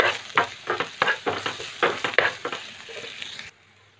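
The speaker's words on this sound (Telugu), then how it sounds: "ఈ విధంగా ఒక ఫ్రై చేసుకోవాలండి" Cabbage manchuria with chopped spring onions and a pinch of salt being stir-fried in a pan, a close, steady sizzle broken by rhythmic scraping stirs, stopping abruptly near the end.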